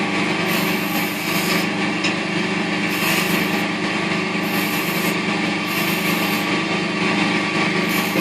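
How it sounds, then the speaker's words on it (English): A wood lathe spins a Christmas snowman ornament while a skew chisel cuts it, giving a loud, steady motor hum with a bright scraping hiss that swells and fades in short passes, and no voices. "it was actually a skew chisel exercise, using a skew chisel in exactly the same way,"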